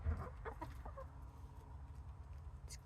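Backyard chickens clucking softly nearby, a few scattered short clucks and faint chirps over low background rumble.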